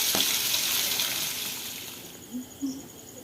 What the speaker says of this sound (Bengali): মাছগুলোকে আমি একটা একটা করে দিয়ে ভালো করে ভেজে নেব।